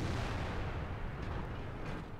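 Heavy, sustained rumbling blast of a T110E4 tank destroyer's gun in World of Tanks, a deep booming roar that fills the whole clip and slowly fades, with no talk over it.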